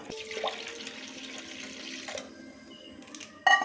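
Water pours into a curry pan with green chillies, turmeric and chilli powder, a brief splashing gush near the start that trails off, followed by quieter kitchen clatter.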